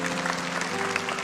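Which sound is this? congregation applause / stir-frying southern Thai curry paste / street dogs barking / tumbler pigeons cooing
congregation applause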